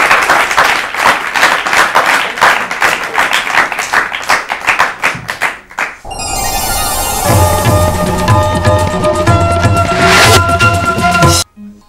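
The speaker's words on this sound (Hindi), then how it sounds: "इनके लिए ताली बजाइए।" An audience on an Urdu-language quiz programme applauds a contestant with brisk, rhythmic clapping for about six seconds, then loud music takes over.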